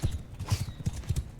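Horses gallop in the medieval combat game Mount and Blade Bannerlord, a steady, fast drumming of hooves with a faint neigh, heard alone and fairly close.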